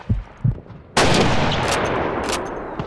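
Sniper rifle fire in the video game Call of Duty 2: after two soft thumps, a single loud, close shot bursts out and rolls into a long, echoing tail with further distant crackles of gunfire.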